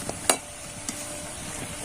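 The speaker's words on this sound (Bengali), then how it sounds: "একে একে এগুলোকে তাহলে ভেজে নিচ্ছি।" Potato and flour nasta snacks fry in oil with a soft, steady hiss and a couple of brief pops close by, and no one speaks.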